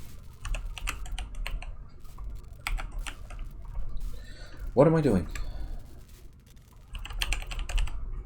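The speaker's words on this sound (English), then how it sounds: "Typing in the wrong name." Keyboard typing in a Warframe gaming session: rapid clicking keystrokes in bursts close to the mic, with someone speaking briefly in the middle.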